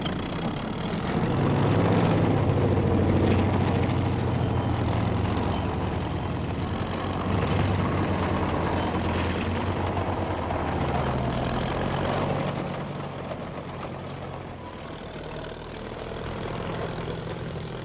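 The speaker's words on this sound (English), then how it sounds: "Big tractor dozers handle the assignment." Heavy tractor bulldozers clearing debris from wartime city streets in WW2, a loud continuous low engine rumble with a steady churning drone that holds throughout and eases slightly toward the end, with no talk.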